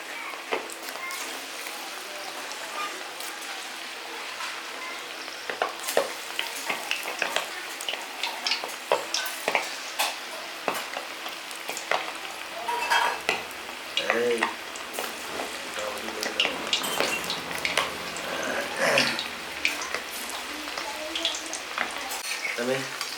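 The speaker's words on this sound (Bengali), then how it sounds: "আমি ছোট ছোট পিসগুলো একটা একটা করে ছেড়ে সুন্দর করে মচমচে করে ভেজে তুলব" Oil sizzles and crackles continuously as small pieces of liver pakora deep fry, with scattered pops and bubbling over a steady frying hiss.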